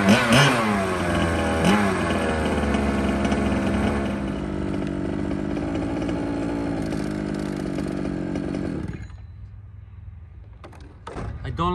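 Large two-wheel-drive carbon fiber RC race car spinning donuts, its engine screaming at high revs with rising and falling pitch for about nine seconds, then dropping away to a quieter idle.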